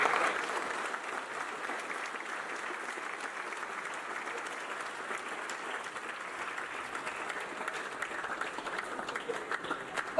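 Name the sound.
audience applauding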